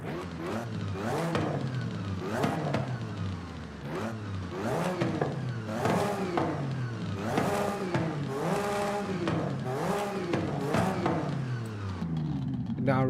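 Stock exhaust on a car in the Forza Horizon 5 racing game, revved repeatedly in a steady rhythm of about ten rising and falling bursts, each climbing sharply then dropping back, moderately loud and without speech.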